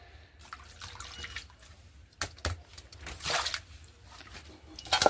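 Water splashes and drips while fish is washed in a saucepan in a home kitchen, with irregular sloshing bursts and a few louder splashes, close by and without talk.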